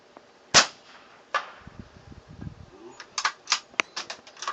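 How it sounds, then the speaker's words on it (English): A .22 rifle firing CCI low-noise subsonic rounds: sharp, fairly quiet cracks, each followed shortly by a faint metallic ping from the steel target, repeated several times in quick succession outdoors. "with a subsonic you hear the gun and then shortly after you hear that ping"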